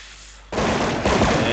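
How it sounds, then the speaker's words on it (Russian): Gunfire in a Counter-Strike style video game match, a sudden loud burst that cuts in after a quiet moment and keeps rattling densely to the end. "Я думаю, сейчас слышат это ребята на банане, то, что кто-то стрелял с ямы."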